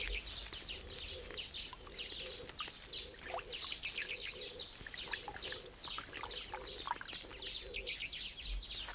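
Egyptian geese with their chicks in the wild, heard as a dense stream of shrill, rapid chirps and peeps that keep going throughout, with occasional lower honking or clucking calls beneath. No voices.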